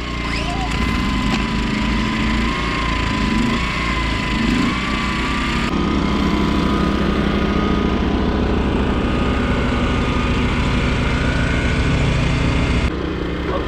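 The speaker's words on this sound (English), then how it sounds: "Here I have two paired 2500 watt Westinghouse inverter generators with a combination of 5000 starting watts producing up to 30 amps." Two paired Westinghouse 2500 watt inverter generators run together with a steady, loud engine drone and high whine that hold constant throughout, with someone talking over them.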